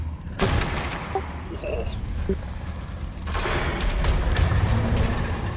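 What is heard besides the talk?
ascendant rifle gunfire in the video game Ark Survival Ascended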